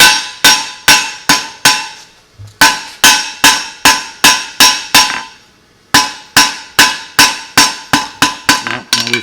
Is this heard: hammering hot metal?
yes